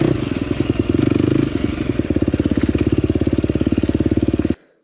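A 2024 KTM 250XCF dirt bike engine runs close and loud, first revving hard, then settling into a fast, even thumping idle before cutting off abruptly near the end.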